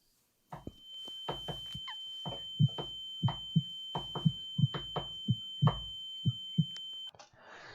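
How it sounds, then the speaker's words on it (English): Steady high ringing tone and rhythmic low heartbeat thuds from a video's sound effects, with faint repeated knocking beneath, quiet and evenly spaced for several seconds before the ringing cuts off. "past the ringing and the heartbeat, you can hear a knocking"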